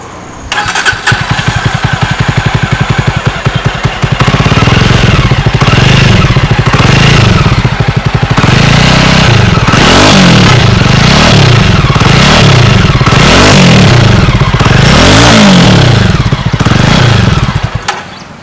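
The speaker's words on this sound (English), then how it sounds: "let's have a listen to the BS4 exhaust" A single-cylinder Jawa 42 motorcycle with BS4 exhaust starts up close by, thumps at idle, then revs repeatedly in a series of rising and falling bursts from the exhaust.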